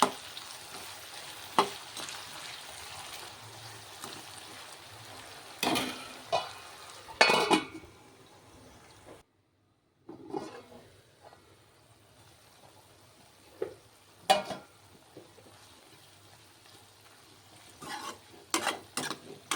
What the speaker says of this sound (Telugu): మధ్య మధ్యలో ఇలాగ తిప్పుకుంటూ ఉంటే మాడకుండా ఉడుకుతుంది అన్నమాట.